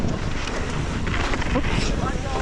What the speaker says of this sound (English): That wind today is super distracting.